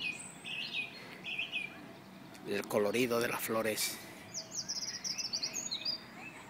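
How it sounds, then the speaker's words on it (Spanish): Birds chirp and tweet in Regent's Park, London, with bright repeated calls at the start and end, while a person talks over the middle. "el canto de los pájaros"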